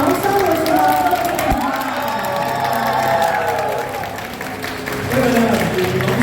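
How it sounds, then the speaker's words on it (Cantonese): A school competition audience applauds the winning primary school in a hall, loud and continuous clapping mixed with cheers and children's shouts, with a voice carrying over the crowd. "請我哋現場有再次俾啲掌聲"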